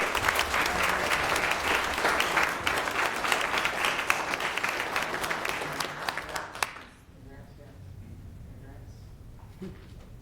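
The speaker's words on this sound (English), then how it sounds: "let's give these young men a round of applause" City council meeting audience applauding a group of young men, a loud burst of crowd clapping that fades out after about seven seconds into quiet room tone.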